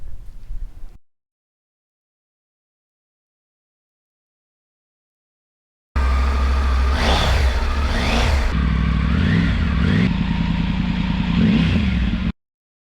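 A Triumph Tiger 900 motorcycle with a Scorpion exhaust, baffle removed, revs loudly close by in a couple of sharp throttle blips, then settles into a rough, rumbling idle before cutting off.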